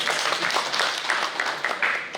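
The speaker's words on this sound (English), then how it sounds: "Let's give him a huge round of applause." Audience applause at a launch event for a local-experts service, a dense patter of clapping that continues steadily at moderate loudness, with faint voices underneath.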